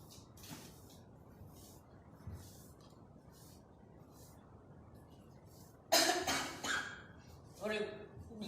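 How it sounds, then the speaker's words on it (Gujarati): A person in a quiet indoor room coughs in short, moderately loud bursts near the end, after a long stretch of low background noise. "હવે થોડીક ઉધરસ આવે છે"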